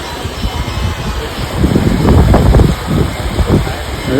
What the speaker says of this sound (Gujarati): વાવાઝોડા જેવો પવન છે